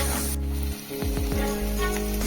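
Curry leaves dropped into hot oil for a chole masala, crackling into a loud, steady sizzle with brief bursts of spitting, close up and with no talk.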